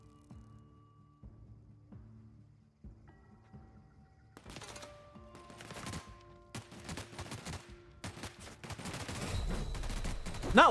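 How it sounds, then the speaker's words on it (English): Machine gun fire in The Outer Worlds, starting quiet with sparse game tones, then sharp bursts of gunfire that grow louder and denser toward the end, ending in a loud volley. "if you could just not shoot at me with the machine gun thing"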